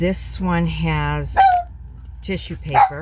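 A pet dog gives a couple of short, sharp barks indoors, close by, cutting in between stretches of a person talking.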